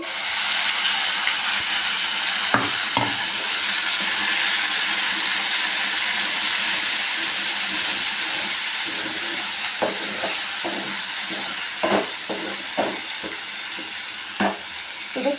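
A ground jamun fruit paste tipped into hot oil tempered with mustard seeds and chana dal, a loud steady sizzle and hiss throughout with scattered scraping clicks of a spoon stirring the pan.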